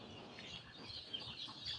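Chickens cluck softly and faintly while being weighed on a scale, a low continuous murmur of fowl sounds with no talking.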